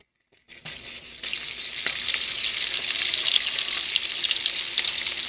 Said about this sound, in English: it's because it's shallow frying.